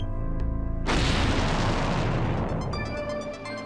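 A booby-trap explosion: a sudden heavy boom that bursts in loud and close after a brief lead-in, then rumbles and decays over a few seconds.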